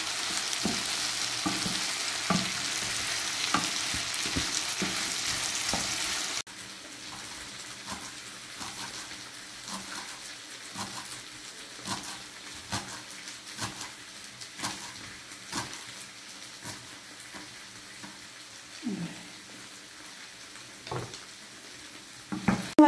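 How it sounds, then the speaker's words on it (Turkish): Meat kavurma sautés in a pan with a low steady sizzle and frequent clicks and scrapes of stirring. An intense hiss fills the first few seconds, then the frying continues softer and close. "Sonra kavurmaya devam edeceğiz dostlar."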